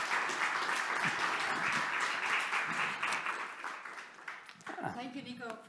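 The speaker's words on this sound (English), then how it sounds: "Round of applause." An academic lecture audience applauds Professor Nico Van de Weghe after his talk on generative AI in human mobility: steady, full clapping that thins toward the end, where a voice begins speaking over it.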